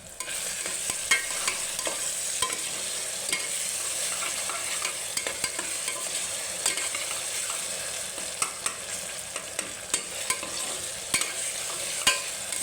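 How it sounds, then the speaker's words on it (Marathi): Onions frying in a pan for a cowpea curry, a continuous sizzle broken by frequent sharp clicks and scrapes from a spatula stirring, close and steady throughout with no voices. "कांदा चांगला तळून झालेला आहे"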